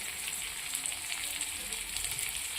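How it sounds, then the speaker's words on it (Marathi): Green chilli fries with onion in a pan, giving a soft, continuous sizzle with light crackle. It is fairly quiet, steady throughout, and has no talk over it. "मग ती मिरची छान भाजून घ्यायची।"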